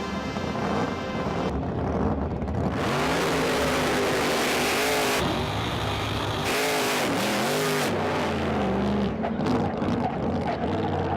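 A 468 cubic inch Hemi engine of 2,500 horsepower in a motorcycle roars loudly and continuously, with repeated revving surges and sweeping pitch changes through the whole stretch.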